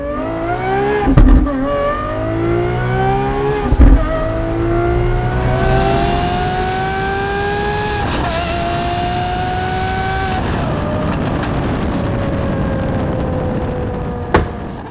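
A Lamborghini Aventador SVJ Roadster accelerates hard with loud, rising engine harmonics climbing through several gear changes, each shift marked by a brief drop before the note builds again, close and continuous with no talking.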